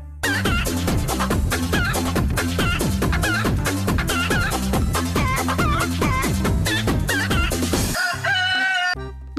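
Game-sound chicken clucking and crowing in a dinosaur-themed video game, loud repeated rhythmic calls over a steady beat, ending with a brief higher squawk.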